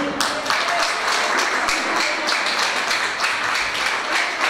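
Church congregation clapping for Jesus during a festive worship service, a dense, steady wash of many hands applauding together, close and loud, with a faint murmur of voices underneath.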